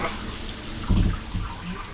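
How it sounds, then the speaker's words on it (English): A shower runs in a cramped sleeper-train bathroom on a cross-country American trip, giving a steady hiss of spraying water with a brief heavier splash partway through, close and moderately loud. "I'm gonna attempt to shower."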